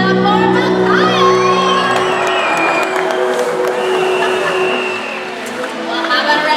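A crowd at a SeaWorld orca show cheering loudly, with whoops and children's shouts over a sustained roar and some clapping, while an amplified voice talks over the noise.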